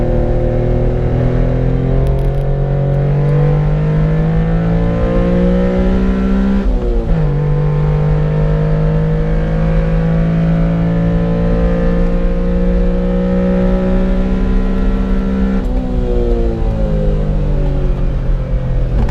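A 1991 Honda Beat engine runs loud and close for the whole stretch, holding a steady idle with two brief dips and rises in pitch as the throttle is blipped, with no talking over it.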